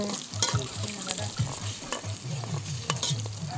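Food in a pot of water is stirred, giving a close rhythmic scraping and swishing of a utensil against the pot under a steady sizzling hiss, with no speech.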